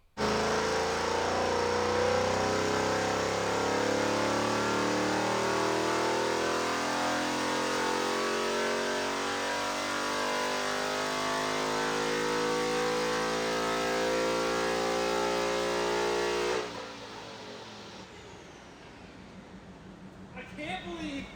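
A car engine on a dyno revs hard and climbs steadily in pitch for a long, sustained pull, then cuts off abruptly, leaving a quieter idle and whir.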